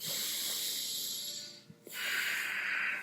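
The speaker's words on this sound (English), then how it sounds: "Listen to your breath, focus on the deep breathing" Slow deep breathing close to the mic: a long hissing inhale, a brief pause, then a strong airy exhale, with no talking.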